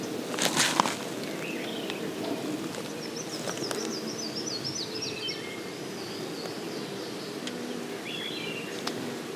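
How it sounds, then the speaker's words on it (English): Bees buzzing around an open beehive frame during a hive inspection, a low continuous drone with occasional rustles and handling knocks, birds chirping faintly in the background outdoors. "Watch out, little bees."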